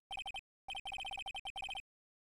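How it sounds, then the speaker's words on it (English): A cell phone rings in the Phoenix Wright: Ace Attorney video game, a bright electronic chirping in quick bursts of beeps, several rapid groups separated by short silences, clean and alone. "All of a sudden, the phone began to ring."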